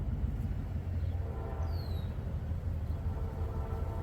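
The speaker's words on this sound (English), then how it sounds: "We do have another train coming." A Norfolk Southern freight train rolls past nearby, giving a steady loud rumble of wheels and cars with a brief high squeal partway through.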